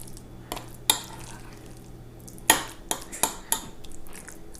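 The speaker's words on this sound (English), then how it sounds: "And I'm just stirring this up. I'll stir it up as well as I can." A spoon stirs a stuffing mixture for zucchini boats in a bowl, giving a run of sharp scraping clinks and taps against the dish, several distinct strikes spaced irregularly over a quiet background with no talk.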